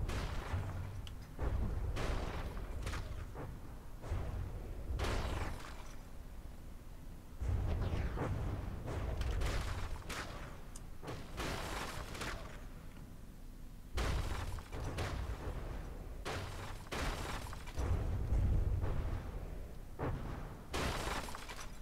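Torpedo explosions in the game From the Depths come as repeated booming blasts and crackling impacts, arriving in irregular clusters over a constant rumbling background.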